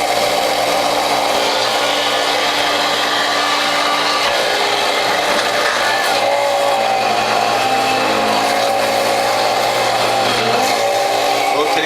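A Norwalk juicer grinds carrots with a loud, continuous, steady whir of the cutter chewing through the roots, close and unbroken throughout.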